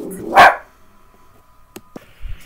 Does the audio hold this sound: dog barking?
yes